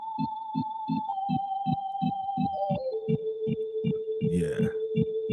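Held organ notes under compression glide down through a few pitches over a steady, thumping pulse of beats, soft and even in level. A brief vocal sound breaks in near the end.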